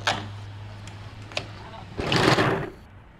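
Sewing machine running through blouse fabric in a short burst near the end, after a quieter stretch with a steady low hum and a few clicks.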